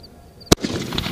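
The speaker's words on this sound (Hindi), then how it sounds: "और ये गया हमारा सोनी का स्काई शॉट यार, काफी तेज आवाज से" A Sony sky shot firework bursts with one sharp, loud bang close by, followed by a crackling, sizzling tail during Diwali night firework testing.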